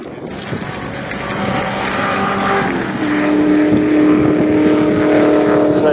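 A Mitsubishi Lancer rally car at the 2008 Dutton Rally in Shepparton, its engine growling closer and louder as it passes under wind noise, with a voice briefly heard.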